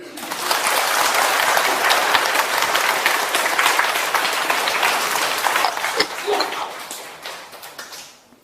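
An audience at a lecture breaks into dense, loud applause that holds steady for several seconds and then tapers off to near silence.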